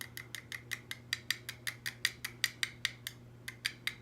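Steady series of sharp, light taps from makeup powder being tapped out, about four per second, crisp and close, with a faint low hum underneath.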